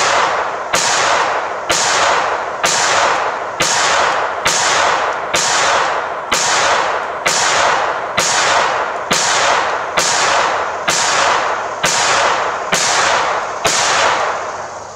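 Kel-Tec P17 pistol firing with die-cut spring magazines, sixteen loud, sharp shots in a steady, evenly spaced rhythm at close range until the slide locks open on empty.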